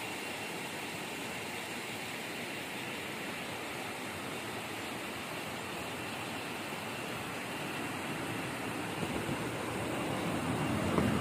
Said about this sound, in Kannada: ಈ ನೀರು ಜೋಗಕ್ಕೆ ಹೋಗುತ್ತೆ, ಅದಕ್ಕೆ ಗೌಟೂರ್ ಹೊಳೆ ಅಂತ ಹೇಳ್ತಾರೆ